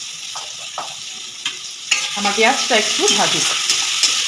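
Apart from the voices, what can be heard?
onions frying in mustard oil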